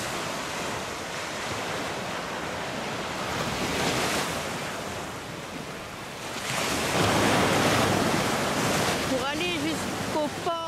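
Steady wash of gentle, calm sea waves in windless rain off Corsica, with a soft hiss of rain, continuous and even, swelling a little midway; faint voices appear near the end.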